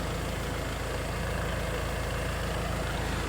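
A tractor engine runs steadily with the PTO engaged to drive a Farmi logging winch, a low, even idling rumble with a regular pulsing throb throughout.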